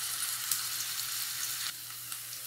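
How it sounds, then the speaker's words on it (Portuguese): Onion fries in a pan with a soft, steady sizzle and faint crackles, quiet and close, with one brief sharper pop near the middle. "vou deixar dar uma fritadinha na cebola"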